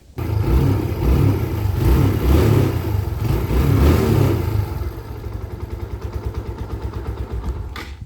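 A motorcycle engine just after an oil service, revving loudly and close at first, then settling into a steady, rhythmic idle with a brief clatter at the end.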